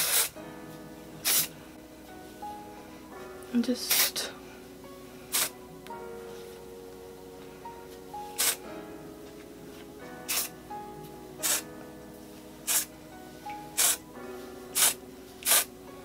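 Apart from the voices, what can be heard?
dry texturizing hair spray spraying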